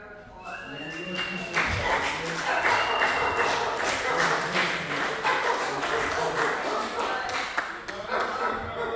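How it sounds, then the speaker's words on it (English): Applause from a small audience at an indoor community presentation, steady clapping that rises after a moment and carries on for several seconds, fairly close and moderately loud. "I wanna give Lyle a big round of applause"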